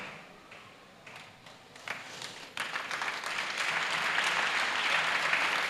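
A church congregation claps, beginning with a few scattered hand claps that quickly swell into loud, continuous massed applause.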